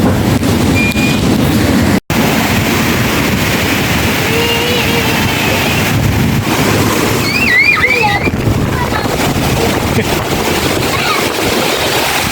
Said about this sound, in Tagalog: papakita ko sa inyo kung gaano kalakas yung habagat